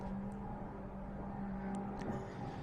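Distant race car engine, likely the 7-litre Bentley at a circuit race, a low steady drone far off under open-air ambience, with faint higher whines drifting in briefly.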